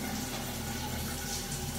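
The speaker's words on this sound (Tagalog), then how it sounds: "gumagana yung shower" A shower runs with a steady, even hiss of spraying water, close by and unbroken.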